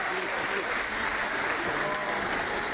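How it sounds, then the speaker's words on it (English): A crowd applauds at the England Athletics U20 and senior track and field championships, a continuous broad wash of clapping under commentator speech, steady and moderately distant. "A lot of support from the crowd here."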